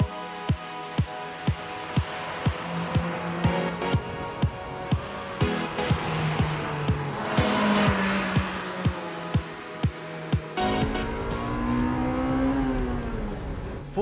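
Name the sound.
Honda Civic Type R EK9 engine revving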